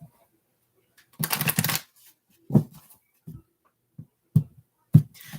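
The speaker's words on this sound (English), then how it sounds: "One more shuffle for Leo." A brief riffle of tarot cards being shuffled, followed by several soft taps and clicks as the deck is squared and laid down, close and quiet.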